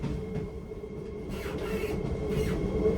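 An RER E commuter train pulls away from Chelles on a service track, giving a low rumble with faint rail clatter and a few brief hissing bursts that build slightly in level, with no voices.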